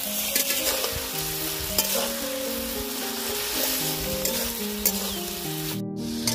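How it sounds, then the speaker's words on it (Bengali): Onion, ginger-garlic and cumin paste fries in a pan for a rohu fish curry, a steady close sizzle with intermittent scraping stirs throughout, no voices. "পেঁয়াজ বাটা, আদা রসুন বাটা, জিরা বাটা ভালোভাবে ভেজে নিব, যাতে কাঁচা গন্ধটা না আসে।"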